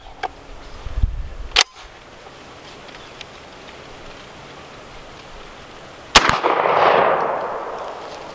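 A VR 80 shotgun firing Russian slugs: two sharp outdoor blasts, an early crack and a louder report later followed by a rumbling tail, with quieter clicks and handling noise between.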